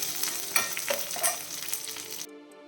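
Dried red chillies and spices fry in hot oil for a pumpkin dish, a steady close sizzle with brief stirring scrapes that cuts off abruptly near the end.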